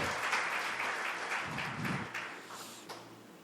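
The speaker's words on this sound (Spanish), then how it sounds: "Dale otro fuerte aplauso al Señor." A church congregation applauds during a Spanish-language sermon, a steady wash of clapping from many hands, fairly faint and distant, fading slightly toward the end with no voices on top.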